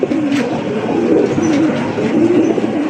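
A male fancy racer golla giribaz pigeon at a wholesale pigeon market coos close by in a steady run of rolling, throaty coos that repeat with little pause, with faint market noise behind.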